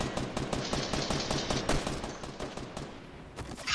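Rapid video game gunfire in a Fortnite match, a dense run of close, sharp shots in quick succession that eases off near the end.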